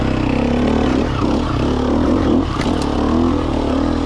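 A Sherco motorcycle engine revs steadily in first gear while climbing uphill, a loud, continuous, close buzzing drone with slight rises and dips in pitch.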